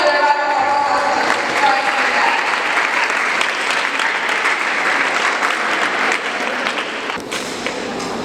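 Audience at a school girl-child biology summit in Obuasi applauds loudly and steadily, a thick roar of many clapping hands that continues without pause and eases slightly near the end.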